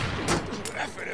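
Sniper rifle shots in an online shooter game, sharp broadband cracks firing in quick succession close up, mixed with game sounds and brief voice chatter.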